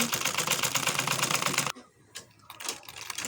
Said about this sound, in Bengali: এখন আমি নিচের সেলাইটা করে নিচ্ছি